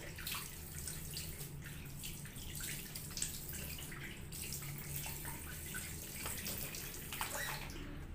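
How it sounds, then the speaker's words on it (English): Tap water runs steadily into a sink and splashes as a face is washed, a continuous close, fairly quiet rush with small drips and gurgles throughout. "So I'm gonna wash my face also."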